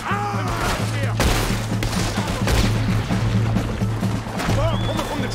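Gunfire from the trees during a train robbery in Red Dead Redemption 2: loud, rapid rifle and pistol shots crackling almost without pause over a low rumbling game background.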